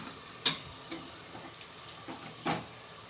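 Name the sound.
ginger garlic paste frying with chicken masala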